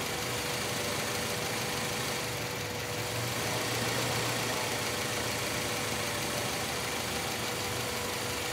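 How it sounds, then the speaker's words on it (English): A Honda B-series four-cylinder engine in an Acura Integra, CR-V or Civic idles after distributor timing adjustment, giving a steady, even mechanical hum and low rumble that holds constant throughout with no voices. "you're just gonna play with it until you get it idling nice and smooth"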